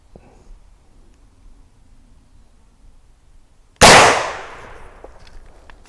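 A single loud shot from a Marlin 45-70 rifle during sighting in, a sharp blast that rings out and decays after a quiet wait.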